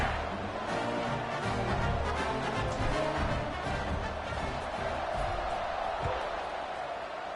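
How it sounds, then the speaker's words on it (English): Football stadium crowd buzzing after a score, a dense, continuous roar of many voices with scattered shouts, steady and loud throughout. "this crowd is buzzing after that last score"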